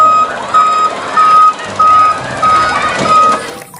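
A toy garbage truck sounds its reversing alarm: about six evenly spaced electronic beeps, loud and close, repeating steadily with short gaps between them.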